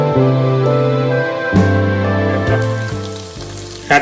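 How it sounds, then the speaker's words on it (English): Ginger sizzling in hot oil with green chilies, a loud, close crackling fry with a low steady hum underneath. "add ginger,"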